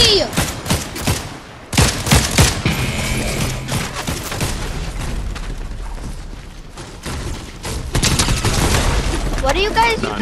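Rapid bursts of gunfire and booming shots crackle through a Fortnite match, loud and dense with dips and resurges, mixed with game effects and intermittent talking.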